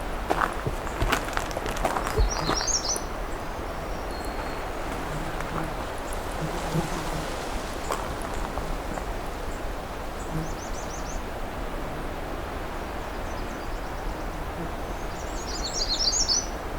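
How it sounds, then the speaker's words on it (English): Magnolia warbler singing in thick, tall jack pine habitat: short bright chirpy phrases repeated a few times at moderate distance over a steady rustling background with footsteps. "So we've got a magnolia warbler close up here."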